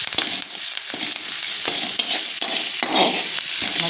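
Drumstick leaves frying in a pan with a little water, a steady broadband sizzle with stirring scrapes throughout, close and fairly loud with no voices.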